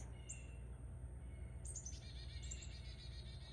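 Birds chirping and calling outdoors, with short high tweets scattered over steady low background noise, faint and fairly distant.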